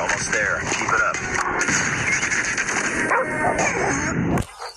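Dog barks mixed with heavy gunfire and explosions in the Call of Duty Mobile shooter, continuous and loud through most of the clip with game effects layered on top, then cutting off abruptly near the end.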